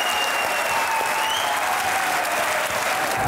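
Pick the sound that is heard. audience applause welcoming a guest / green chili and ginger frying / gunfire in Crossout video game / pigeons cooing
audience applause welcoming a guest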